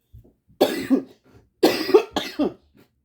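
A person coughs three times nearby, in harsh throaty bursts with short pauses between them.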